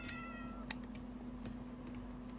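A cat in a video game gives one short, clear meow at the start. A few faint clicks follow over a steady low hum.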